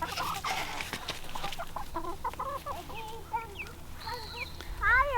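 Farmyard chickens cluck steadily while pecking at feed, several birds close by with overlapping bursts and a few higher squawks toward the end.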